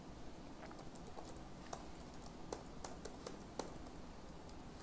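A password is typed on a computer keyboard at a command prompt, a quick run of light, irregular key clicks over a faint room hiss.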